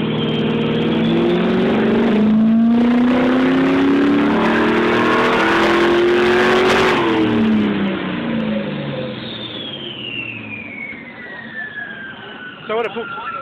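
Ford Falcon EB XR8 with a manual gearbox on a dyno run: the engine climbs loudly through a long full-throttle pull, then lets off and winds down, with a rising whine continuing as it coasts.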